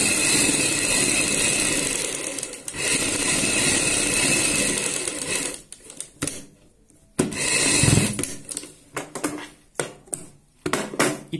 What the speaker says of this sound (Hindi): इस निशान के ऊपर हमें सिलाई लगानी है